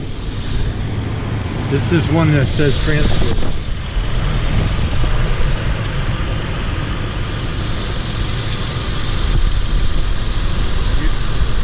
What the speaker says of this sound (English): Now we need to start the engine up